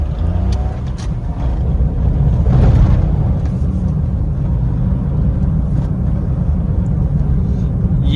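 A Maruti Suzuki S-Presso on worn, old tyres accelerates along a road, giving a steady, close engine and road rumble that swells slightly midway and carries on without talk.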